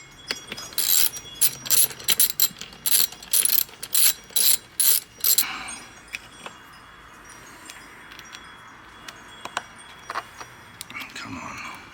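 Ratchet wrench clicking in quick bursts while loosening the 14 mm bolt joining the seats in a Nissan 300ZX interior, close and loud, with a hand tool's sharp pawl rattle; whispered talk follows.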